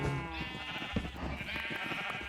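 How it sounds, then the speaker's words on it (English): Sheep bleat repeatedly in the Minecraft video game, several overlapping calls close by over a steady game background, like a small flock jostling together. "Let's grab a sheep."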